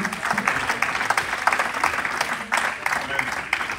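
A church congregation applauding together in steady, sustained clapping that fills the room, with cheering voices mixed in throughout.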